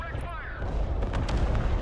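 Rockets blowing up in the Broken Arrow multiplayer war game, a dense rumbling barrage of explosions with sharp cracks layered over a continuous loud roar, a descending whine fading in the opening moments.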